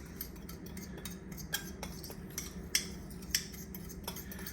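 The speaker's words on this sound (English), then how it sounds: "In a side little bowl, we have a half a cup of white sugar and a tablespoon of cinnamon. We want to mix that together." A utensil stirs half a cup of white sugar with a tablespoon of cinnamon in a small bowl, giving faint, scattered clinks and scrapes against the bowl in a quiet kitchen.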